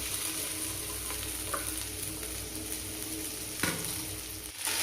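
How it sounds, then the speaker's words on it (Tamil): Sliced okra sautéing in about three spoons of hot oil over high heat for bhindi masala, a steady close sizzle with occasional scraping stir strokes and a brief clatter near the end. "காஞ்சதும் வெறும் வெண்டைக்காயை போட்டு நல்லா வணக்கி எடுத்துக்கணும்."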